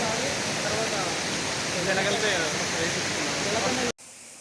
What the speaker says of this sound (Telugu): ఈ వాటర్ఫాల్ ఫ్లో ఎలా ఉందంటే ఒక్కో చోట ఒక్కో రకమైన ఫ్లోయింగ్ ఉంది